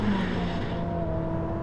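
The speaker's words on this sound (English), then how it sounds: "Okay, big brake into the hairpin here, 3rd gear. Oh, the brakes are strong." A Ferrari SF90 Assetto Fiorano, about 1,700 kg, braking hard into a hairpin in third gear on a track, its engine note dropping in a steady loud drone with light tyre noise.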